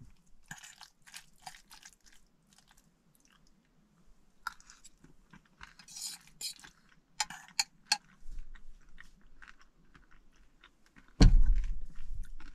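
Expired boxed macaroni and cheese being chewed close up, with repeated soft wet crunches in an irregular rhythm and a louder burst near the end, no talking.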